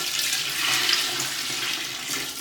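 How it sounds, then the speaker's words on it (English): Dirty mop water pours out in a steady, loud, rushing splash during a kitchen deep clean, continuous for a couple of seconds with no talking. "Dirty water dump number 1."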